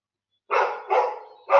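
A dog indoors gives three close, loud barks with short pauses between them, and the last one is cut off. No one talks over them.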